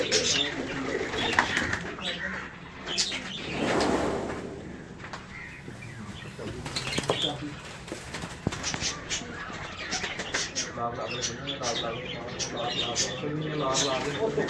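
Pigeons cooing in a loft, soft repeated coos and bird calls mixed with people talking nearby throughout.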